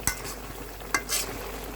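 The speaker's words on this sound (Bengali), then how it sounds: "কাঁচা জিরে বাটাটা দিয়ে দিলাম একটু মিশিয়ে নেবো নাড়াচাড়া করে" Rohu fish curry with cumin paste being stirred in a pan, with a soft sizzle under two or three quick spoon scrapes, quiet and close with no speech.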